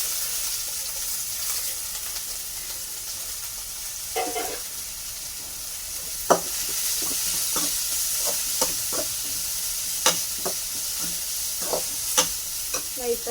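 Vegetables sizzling in hot oil in a pan while being stirred for garlic kulambu, a steady frying hiss broken by scattered scraping and clinking of a spoon against the pan, close by, with no speech.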